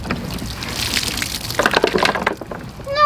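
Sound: water being poured out of a toy car

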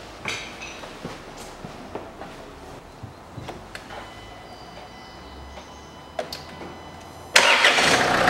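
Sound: car engine starting

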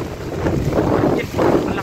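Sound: strong typhoon wind, Typhoon Odette

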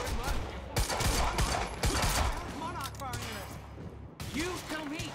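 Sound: gunfire in a video game

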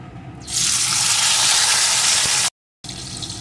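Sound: chopped tomato added to frying spices in hot oil

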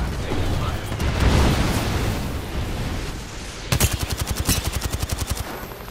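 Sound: gunfire in Apex Legends video game

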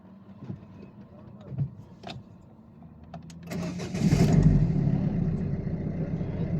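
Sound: diesel car engine starting

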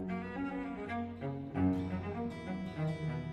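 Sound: cello playing

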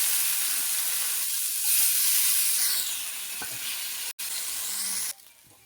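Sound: potatoes frying in oil left from frying rohu fish

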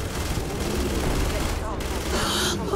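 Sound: gunfire in Starfield (video game)

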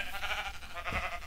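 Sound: sheep bleating in video game Minecraft

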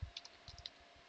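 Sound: typing a directory name on a computer keyboard

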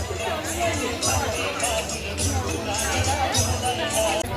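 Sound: crowd of pilgrims gathered for free tea at Pandharpur

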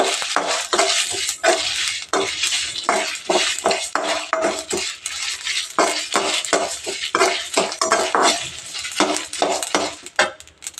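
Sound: dried red chillies and urad dal roasting in a pan

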